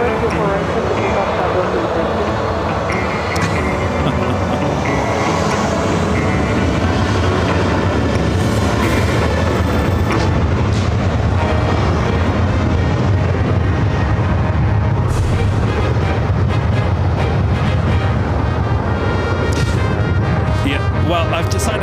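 A jet airliner takes off from a runway at LAX with a loud, sustained broadband roar that stays heavy throughout, and voices talk over it.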